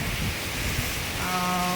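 Steady rain with strong wind falls in Chennai, a dense even hiss that holds throughout, while faint tonal hums appear near the end.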